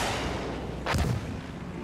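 A single sharp whoosh and blast of an aircraft firing ground-attack rockets rises briefly over a steady rumbling drone, in Battlefield 1.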